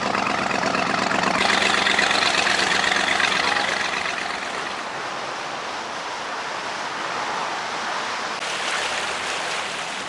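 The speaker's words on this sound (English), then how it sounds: "we really enjoyed watching and hearing all the different boats go by." Motor boats pass on an inland waterway, a steady engine drone with churning water, loud at first and then settling to a lower, continuous rumble.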